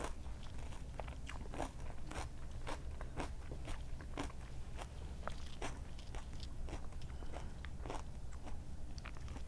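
Steady, rapid crunching as tortilla chips with salsa are bitten and chewed up close, sharp crackly bursts repeating throughout with no talking.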